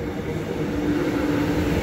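A Melbourne X'Trapolis suburban train rolls into a station, giving a steady, fairly close rumble of wheels on rail with a faint sustained tonal whine and no talk.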